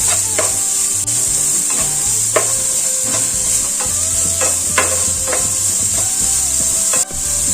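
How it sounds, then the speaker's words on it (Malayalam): Finely chopped onions sauté in a pan, a constant bright sizzle broken by repeated scraping strokes of a wooden spoon stirring, close and loud with no talking. "അതും കൂടെ ഇട്ട് കൊടുക്കണം. ഒന്ന് വഴറ്റി കൊടുക്കാം."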